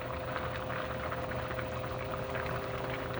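Basmati rice simmers in a pot of water, a steady close bubbling hiss with a faint constant hum underneath and no talking.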